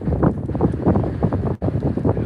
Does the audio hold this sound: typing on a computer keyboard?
no